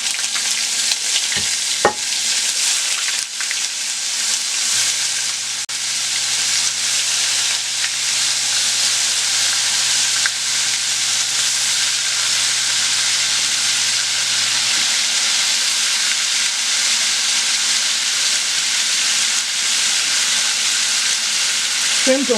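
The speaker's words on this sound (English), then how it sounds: "I'm about to add my shrimp. I'm going to add my shrimp one at a time." Shrimp fry in a hot pan beside blackened garlic salmon, giving a loud, continuous sizzling hiss with a few sharp clicks near the start as pieces go in, steady and close with no talk.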